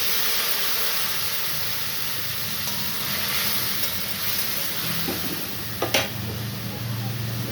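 Ground spice paste is tipped onto fried potatoes for a potato and cauliflower curry, raising a steady, loud hissing sizzle that runs throughout, with a couple of brief clatters near the end.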